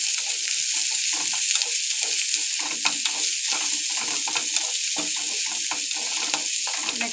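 Beans and carrots sizzle and fry in a pan while being stirred, with steady close crackling and repeated scraping strokes of the stirring, and no talk.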